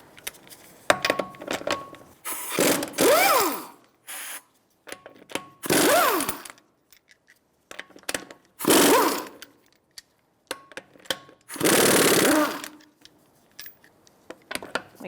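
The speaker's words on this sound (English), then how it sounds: "Now we're going to be taking off our wheel. I'm going to use a 21mm socket." Lug nuts come off a Nissan Altima wheel with a power tool and a 21mm socket, heard as several separate loud whirring bursts with short quiet pauses and faint clinks between them.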